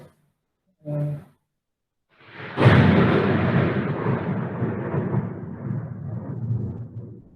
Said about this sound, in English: can you hear the lightning, the thundering?